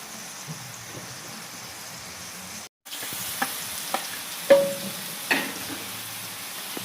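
Chopped onion sautés in melted butter in a pan for carbonara, a soft steady sizzle with a few sharper pops and spatula scrapes, fairly close and without talking.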